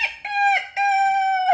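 A rooster crows loudly and close by in a long, ringing cock-a-doodle-doo with two short opening notes and a sustained final call, heard on its own without talk.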